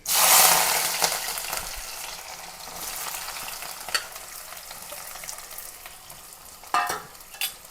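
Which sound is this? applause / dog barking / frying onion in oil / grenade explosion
frying onion in oil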